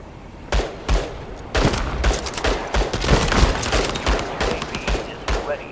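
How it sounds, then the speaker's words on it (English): Bursts of automatic gunfire and scattered single shots in the video game World War 3, loud and close, with a voice talking over the shooting. "the sound of the guns, they sound really good as well"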